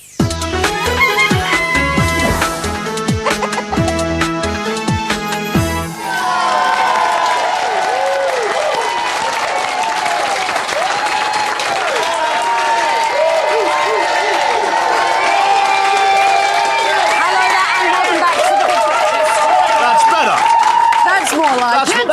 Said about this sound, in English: Oh, now you clap.